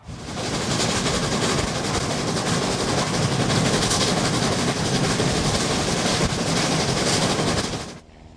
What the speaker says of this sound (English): this A3 Pacific locomotive was named Flying Scotsman